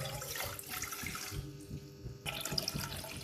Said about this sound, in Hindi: इसके अंदर मैं डाल रही हूँ पानी।